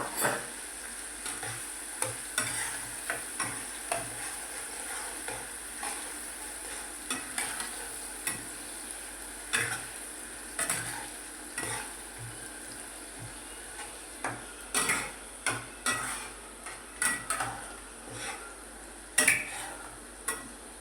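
Onions fry with asafoetida in a pan for chole bhature, a low, steady sizzle with frequent spoon scrapes and clinks against the pan, repeated in short bursts over a long stretch.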